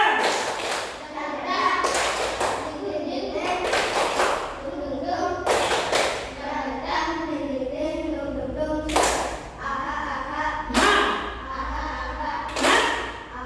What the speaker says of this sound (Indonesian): tepuk semangat dua